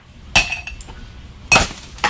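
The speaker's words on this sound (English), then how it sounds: "Definitely want to get a couple ice cubes in there." Ice cubes dropping into a glass vessel, two sharp close clinks about a second apart with a little rattling between and a third starting at the end, no talk.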